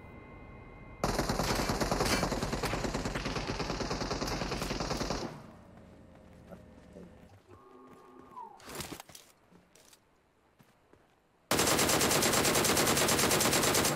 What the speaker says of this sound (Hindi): पीछे से फिर से उस पर फायर होता है